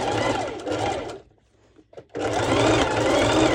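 A sewing machine runs steadily while stitching ruched-side shorts of pole dance wear, loud and close, with a brief pause in the middle before the whirring motor and needle start again.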